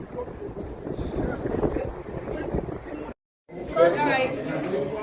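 Strong wind buffeting at a non-league football ground, loud continuous rumble and microphone gusting with background crowd chatter, a brief cut, then people talking close by.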